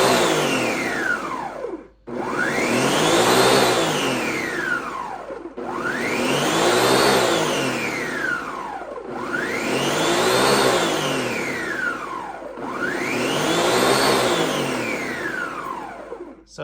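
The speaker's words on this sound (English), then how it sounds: "Okay, here I have some tomatoes. I just put them in whole. I'm just gonna blend them up to make a curry." A Ninja Foodi Power Blender pulses through whole tomatoes in five loud, repeated bursts, each whirring up in pitch then dropping with brief pauses between, motor roaring close and steady.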